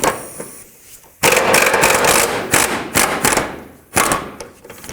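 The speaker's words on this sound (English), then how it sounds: "now I'm going to get my 21mm socket in there and loosen up that bolt" Metal socket wrench working loose a 21mm sway bar bolt under a 2007-2009 Saturn Aura, heard as close, loud bursts of clattering, ratcheting noise with brief pauses between turns.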